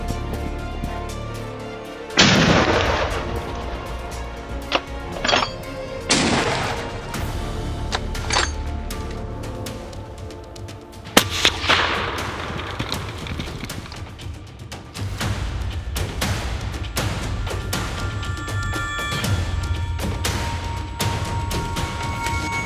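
Gunshots fired during a hunt: several sharp, loud bangs spaced irregularly over the first half, followed by scattered softer cracks over a continuous noisy background.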